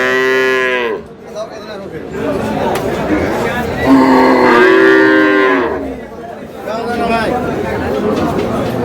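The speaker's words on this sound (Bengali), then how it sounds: "গাভী বাছুর" Dairy cows and calves moo loudly and repeatedly amid a busy crowd at the Aftabganj cattle market in Dinajpur, with people chattering nearby and long lowing calls rising over the murmur.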